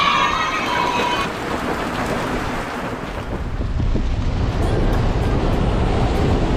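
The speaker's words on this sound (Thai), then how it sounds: "ก็ติดฝนนะครับ เพื่อนๆ ตกหนักมากเลย" Heavy rain on a roadside shelter in Thailand where a rider on a 2020 Yamaha NMAX scooter waits it out, a dense steady broadband hiss with wind buffeting the microphone throughout.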